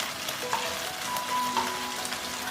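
Chicken wings fry skin-side down in a little oil over the lowest heat, a steady close sizzle with faint crackles and occasional soft spits, no talking.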